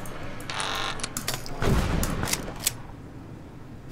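Gunfire in the video game Papers, Please: several sharp shots and a heavier burst of blasts come in quick succession, fairly loud, with no speech over them.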